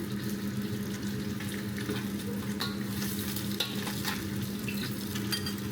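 Fish frying in oil in a pan, a steady close crackling sizzle with scattered sharper pops and faint stirring clicks, continuous throughout with no talk.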